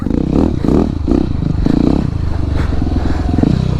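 A Husqvarna 701 supermoto motorcycle rides on an icy, snowy road, its engine giving a loud, close, pulsing throb that rises and falls in short surges of throttle throughout, with no speech.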